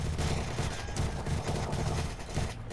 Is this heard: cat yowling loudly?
no